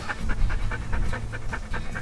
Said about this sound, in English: But I don't think this is a real drug dog.